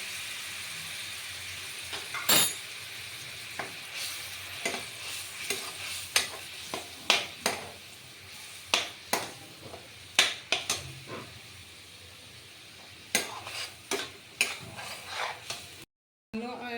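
A ground paste fries in a spoonful of butter for a potato and pointed gourd curry, giving a steady low sizzle. Sharp scrapes and clacks from the stirring spoon come at irregular intervals. No one speaks.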